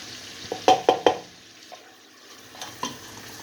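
Unsalted sweet cream butter melting in a pan for southern style gravy while being stirred, a few quick close scraping strokes followed by a soft sizzle and an occasional scrape.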